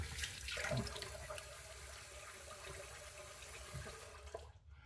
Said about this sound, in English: I'm going to rinse my face with warm water in the sink and then use some cold water to rinse.